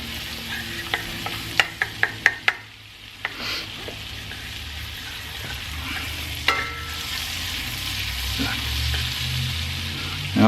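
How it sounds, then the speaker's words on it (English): Garlic sautés in a 12-inch Lebof five-ply stainless steel pan: a steady close sizzle, with a quick run of sharp utensil clicks and scrapes at first, then a louder crackle and a final scrape. "we're going to add our garlic. Get that moving around."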